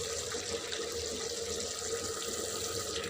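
Broth or water poured into a pan of fish curry being cooked down, a steady continuous splashing stream, close and moderately loud, with no talking.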